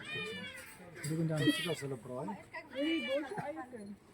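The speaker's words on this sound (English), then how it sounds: "Now here we have glorified house cats." Cats kept at Lost Valley in Rustenburg, South Africa, give several loud, close, drawn-out meows in quick succession, with short pauses between calls.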